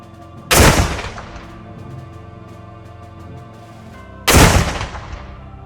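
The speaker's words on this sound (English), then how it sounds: "consecutive cannon blasts were fired in honor of 2 incredible individuals lost in 2026" Ceremonial cannon blasts fired in honor at Camp Perry: two loud, close booms about four seconds apart, each with a sharp crack and a long rolling decay, with a low steady hum between them.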